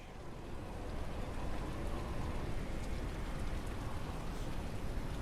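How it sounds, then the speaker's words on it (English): Rain, howling wind and ocean waves on the docks of the video game Painkiller: Revamped, a dense, constant wash of rainfall and rushing noise at an even level throughout, with no voices. "We have the lovely rain sound effects. Sound of the wind howling, as well as the big ocean waves."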